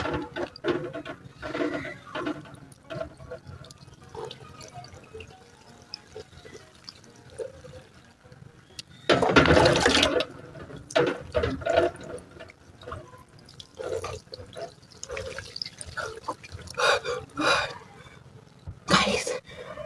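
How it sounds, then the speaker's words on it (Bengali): Cold water is poured over someone's head during a midnight bath, splashing in short bursts with one heavier pour. Drips and scattered speech come in between. "এবার মাথায় জল ঢেলে নি চলো"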